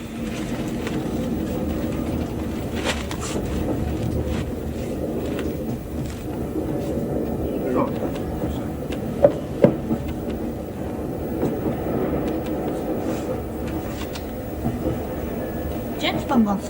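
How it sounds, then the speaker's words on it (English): A British passenger train pulls away, its steady low rumble and rolling rail noise filling the carriage with a few sharp clanks along the way. "At last, bloody train's moving."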